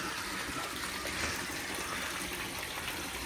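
Water gushes into a nearly full backyard fish pond tank built for alligator gar, a constant rushing hiss of moderate level with no pauses.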